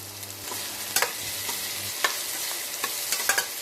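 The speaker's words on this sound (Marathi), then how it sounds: "भाज्या व्यवस्थित परतून घ्यायच्या आहेत फोडणीमध्ये" Chopped vegetables such as green beans sauté in a tempering for vegetable biryani, a close, steady sizzle punctuated by sharp scrapes and taps of a spoon stirring the pan, with a faint low hum early on.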